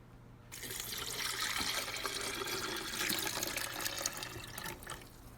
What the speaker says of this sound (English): And then I'm going to add 7 cups of water.